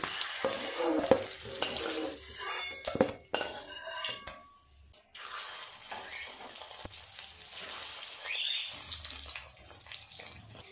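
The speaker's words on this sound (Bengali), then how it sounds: "যে ডিমগুলো বাকি আছে ওগুলো এইভাবে ভেজে নেব।" Eggs frying in a pan, a soft crackle beneath clattering cookware and utensil clinks, with a brief pause midway before the quiet frying resumes.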